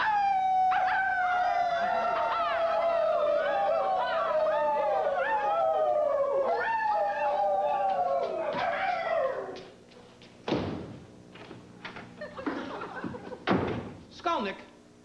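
Several men howl together in imitation of wolves, a long loud chorus of wavering, gliding cries for about nine seconds, followed by scattered thumps and bangs as they head out.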